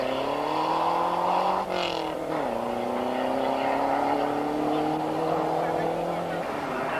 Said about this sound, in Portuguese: O Lancia de Nico Sturken, um carro de 4 rodas motrizes e, apesar disso, com dificuldades para sair em força.